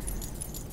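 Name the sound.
keys jangling in Skyrim video game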